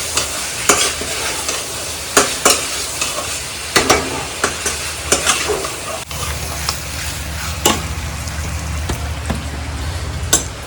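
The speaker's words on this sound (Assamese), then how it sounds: "প্ৰথম বস্তুটো ধুনীয়াকৈ ভাজি লওঁ" Pork sizzles steadily in a hot pan while a spoon scrapes and stirs it in repeated sharp strokes, the frying hiss continuous and close throughout.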